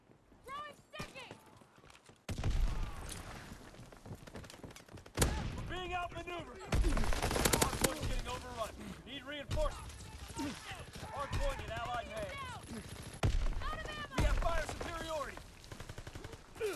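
Gunfire in Call of Duty WW2 Hardpoint multiplayer: bursts of rapid automatic shots and single loud reports recur throughout amid dense game noise, with a player's voice speaking over the action.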